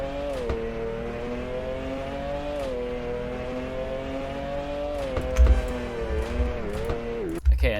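A car engine in the Car Dealership Tycoon video game hums in a steady tone that climbs and settles as it accelerates. A few thumps and a short burst of noise come near the end.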